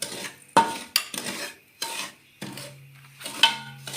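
Ghee going into cooking sugar for makhandi halwa, heard as a series of separate close clatters and scrapes of a spoon against a pot, with a low sizzle under them and no talk.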